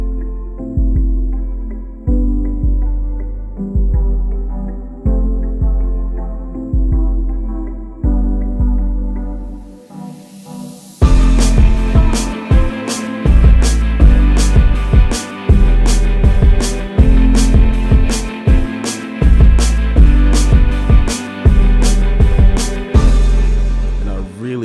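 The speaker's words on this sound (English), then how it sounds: "So let's say I have an unfinished beat that sounds like this." An unfinished beat starts with a repeating plucked guitar riff. Halfway through, full drums with crisp hits and bass come in under the guitar, steady and loud, with no talking.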